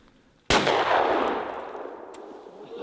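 A single loud shotgun blast fires at a clay target at a hunting shooting range, an abrupt crack followed by a long, fading outdoor echo.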